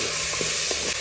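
Beef with masala and ginger garlic paste sizzling in a pan while being stirred, a constant hissing sizzle with a few soft scraping strokes, close and even.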